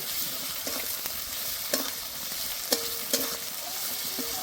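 Ginger and garlic paste stirred with fried onions in a pan for an egg curry, a steady close sizzle broken by a few light scraping knocks of the spatula.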